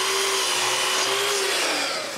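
A power saw steadily cuts mahogany strips into 45-degree corners for a picture frame, a loud continuous whine that holds a steady pitch and dips slightly toward the end, with no talk.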